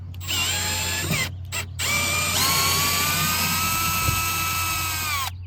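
A power drill whirs in several bursts with short pauses between, the motor pitch rising and holding steady, loud and close, as it backs out long screws from a 2006 Acura TL door panel.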